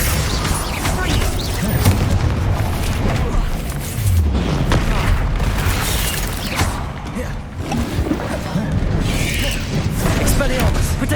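The Confringo explosive spell in the video game Hogwarts Legacy bursts in loud booming blasts amid constant heavy combat clatter and game music. The impacts recur irregularly throughout.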